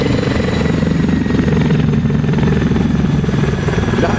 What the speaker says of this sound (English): what inverted flight means for the Mi-8. A medium lift twin turbine helicopter.